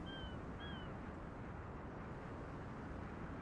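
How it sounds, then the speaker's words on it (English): U-boat engine running in the Silent Hunter 5 submarine game, a dull continuous low rumble heard from a distance, steady and faint, with brief high whistling tones near the start. "All the way back here, we can hear the engine."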